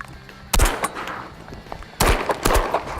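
Shotguns fire at ducks during an Ontario waterfowl hunt among reeds, with two sharp, loud blasts about a second and a half apart and a quick third shot after, set against quiet outdoor background.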